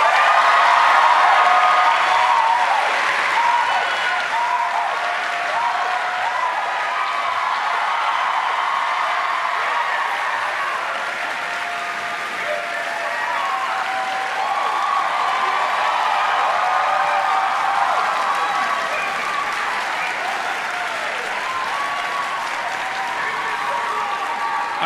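Sustained, loud applause from a large university audience welcoming Hasan Piker to the stage at UBC in Canada, steady clapping with a few cheers that holds for the whole stretch and eases slightly toward the end.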